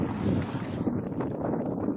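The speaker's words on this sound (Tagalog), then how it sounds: "Ang hangin" Steady wind buffets the microphone, producing a continuous rumbling roar with no voices.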